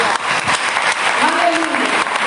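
Church congregation applauding during a sermon, a loud continuous burst of clapping with voices calling out faintly within it.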